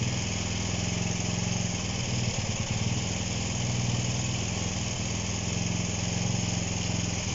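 A flooded Honda CB125 RS motorcycle engine idles unevenly at close range, a steady, rough single-cylinder putter that runs on alone with no voices over it.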